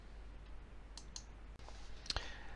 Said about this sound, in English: you can then click the Save Changes button